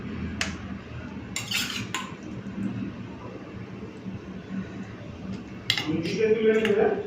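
Bele fish curry stirred and turned in a pan with a spoon, giving soft metallic clinks and scrapes under a steady low kitchen rumble, with a louder clattering burst near the end.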